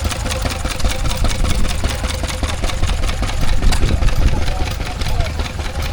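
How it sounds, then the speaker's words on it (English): A Lister A stationary engine powering a shearing rig runs at a country show, chugging in a steady, loud, rapid rhythm close by with a low knocking pulse throughout. "Here's a Lister A, it's a shearing rig, this one."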